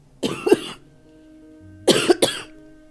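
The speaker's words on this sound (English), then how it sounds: "need to cough" Two separate bursts of coughing, each a quick double cough, close and fairly loud with a brief pause between them.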